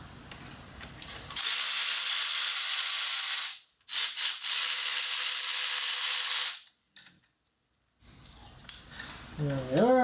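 A power tool, likely an impact or drill driver, loosens a bolt on the engine of a 2002 Cadillac Deville DTS during engine removal, with two long close bursts of loud whirring broken by short pauses and brief rattles.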